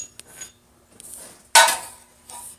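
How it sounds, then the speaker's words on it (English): A hammer strikes a rivet on a pair of blacksmith's rivet tongs, peening it into a ball, with a few light taps followed by one loud, ringing metallic blow close by. "I will just use this to drive down that rivet to create a nice ball"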